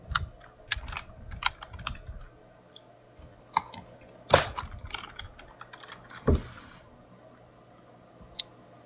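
Close keystrokes on a computer keyboard type a search into the Windows Start menu, irregular clicks in short flurries with a few louder taps and pauses between, quiet and without talk.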